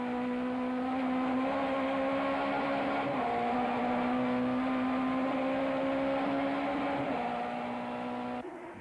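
Touring cars racing at Killarney circuit in 1994, a loud sustained engine whine with strong steady pitch and brief gear-shift dips, close and continuous, ending with a sudden drop.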